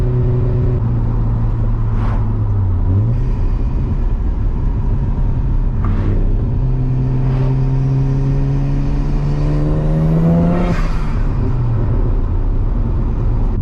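A Mazda RX7 rotary engine revs up and down while driving, a close, loud buzzing drone with rising and falling pitch through gear changes and sharp shifts, no talk.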